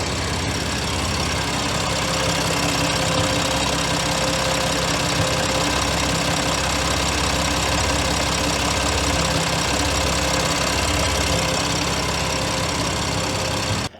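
A BMW M2 Competition (F87) engine idles steadily and loudly for the whole stretch, with a constant rumbling hum and no talking.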